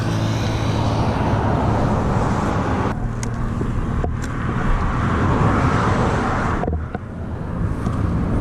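A Kawasaki KDX 125 two-stroke motorcycle runs at speed, its loud engine drone steady and close with a few brief dips as the throttle shifts.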